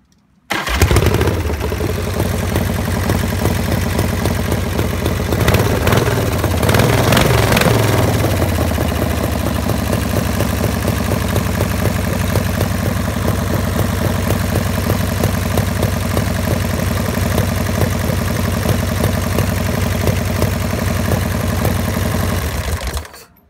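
A Dominator motorcycle engine cranks and catches with a sharp burst at start-up, then settles into a steady, loud idle that runs evenly for about twenty seconds before cutting off.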